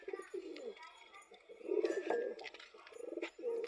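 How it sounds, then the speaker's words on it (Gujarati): Pigeons settled in their loft coo softly in quiet, repeated throaty phrases, with a few faint chirps between them. "આપણા બધા કબૂતર બેસી ગયા છે ખાનામાં."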